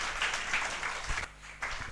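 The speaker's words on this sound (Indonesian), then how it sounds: "Berikan tepuk tangan yang dahsyat bagi Tuhan." Church congregation clapping together in a short burst of lively applause, close and fairly loud, dipping briefly before picking up again.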